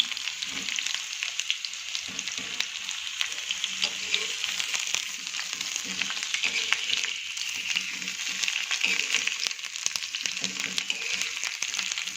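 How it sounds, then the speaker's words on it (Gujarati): Whole onions stirred in hot oil give a steady, dense sizzle for a Kathiyawadi-style curry, with faint utensil scrapes and clinks scattered through the continuous frying hiss. "આ રીતે બધી ડુંગળી એડ કરી અને ફેરવી દઈશું તેલમાં।"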